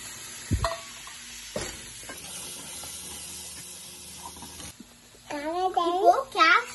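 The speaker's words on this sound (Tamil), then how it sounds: "இப்போ நம்ம தக்காளி போட்டு வதக்கணும்" Tomatoes are sautéed in a pan with onion, ginger and garlic paste for paneer butter masala, giving a soft steady sizzle with a couple of sharp stirring knocks, then speech over the frying near the end.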